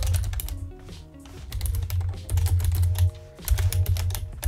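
Fast, steady typing of code on a computer keyboard while writing a game script in Unity, with dense clicking keystrokes over a low hum, continuing throughout without talk.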